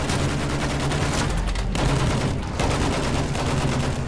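Rapid bursts of gunfire from a Battlefield 1 Conquest match on the Tsaritsyn map, loud and nearly continuous over about four seconds with brief dips in between.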